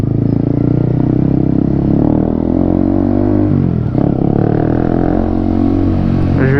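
Kawasaki-powered Bajaj Dominar 400cc motorcycle ridden slowly, a loud close engine drone with steady low rumble and mild pitch shifts, plus wind buffeting and a brief dip midway, no talking.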